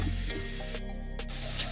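Baby prawns sauté in a pan for thoran, giving a steady close sizzle and hiss of frying broken by two brief stirring scrapes.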